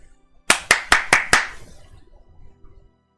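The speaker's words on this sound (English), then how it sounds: "A round of applause." Five sharp, evenly spaced hand claps ring out close and loud in a quiet room, followed by faint low background noise.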